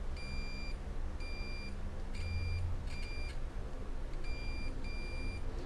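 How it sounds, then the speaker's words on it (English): A series of short, faint, high-pitched electronic beeps from a continuity tester checking soldered drone speed-controller connections, evenly spaced, with a low hum underneath. "If it beeps, I know it's correctly connected."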